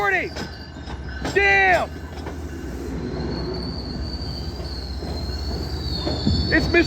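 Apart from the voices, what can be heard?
MBTA HSP-46 locomotive 1722 train passing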